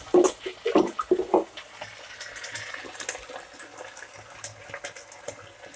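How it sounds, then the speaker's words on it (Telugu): About one and a half cups of water poured into a pan of fried semiya for upma, with a burst of splashing and bubbling at first that settles into a quieter simmering hiss. "ఒకటిన్నర కప్పు వేసుకున్నామండి వాటర్."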